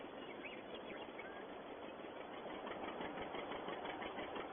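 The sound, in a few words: tractor engine running while tedding hay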